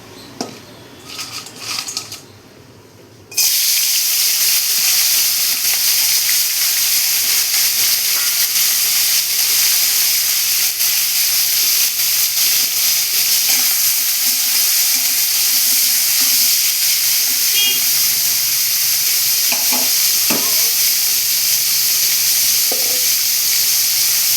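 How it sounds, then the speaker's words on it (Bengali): Loud, continuous sizzling hiss of salt-and-turmeric-coated crabs frying in hot mustard oil erupts suddenly after a few quieter seconds and holds steady, with occasional pops. "এবার আমি নুন হলুদ মাখিয়ে রাখা কাঁকড়াগুলো দিয়ে দেবো"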